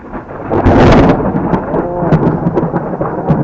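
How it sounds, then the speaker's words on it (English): Deep rumbling thunder rolls loudly and steadily, a low continuous roar with crackling peaks, no voices present. "Have you heard that thunder?"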